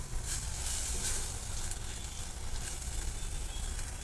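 Roasted coconut and sesame masala fries in hot oil for an egg curry, a loud, dense, continuous sizzle with crackling throughout and no talk.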